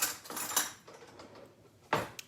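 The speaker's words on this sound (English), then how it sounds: "let me grab another spoon" A spoon is picked up with a quick burst of clattering against dishes and bowls while a poke bowl is being prepared. Close clinks and scrapes end in a final sharp rattle, with no voices.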